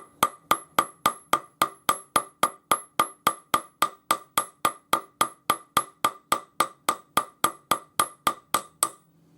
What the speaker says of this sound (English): just use my jeweler's hammer to hammer it half its thickness.